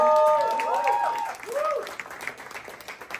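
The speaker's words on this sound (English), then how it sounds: "please make some noise for Amaziyah The" A poetry event audience in Pawtucket, Rhode Island applauds and cheers for a poet, with a burst of clapping and whoops at first that thins into scattered claps and calls. Loud tonal whistles ring out near the start.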